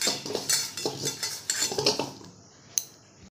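Potatoes being mixed with turmeric and salt in a bowl, with a run of clinking, scraping utensil strokes against the dish for about two seconds, then a pause and one sharp tap near the end.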